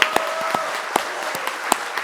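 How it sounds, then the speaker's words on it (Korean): Applause for a library director at a public forum in a National Assembly library hall, sparse individual claps ringing out fairly close and loud over a steady room murmur. "우리 여기 도서관장님께 박수 한번 좀 주시면"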